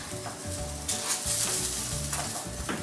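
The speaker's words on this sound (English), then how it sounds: "right now we're cooking the hash browns." Ten hash browns sizzle in a pan with a continuous bright crackling hiss, accompanied by low rhythmic hum-like tones and occasional louder bursts, no speech.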